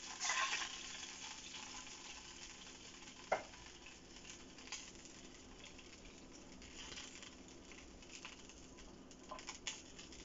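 Butter sizzling in a pan while an egg muffin is being made, a faint, steady frying hiss with a few soft ticks and pops, no voices.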